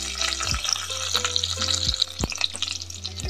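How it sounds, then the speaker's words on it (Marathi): Onions and curry leaves fry for Mangalorean Shetty-style sukka chicken with a steady, close crackle and several sharp spatula knocks against the pan, with no talking. "हे व्यवस्थित सगळं फ्राय करून कांदा थोडासा गोल्डन ब्राऊन करून घेऊया."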